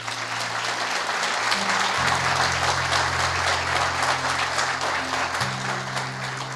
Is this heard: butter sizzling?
no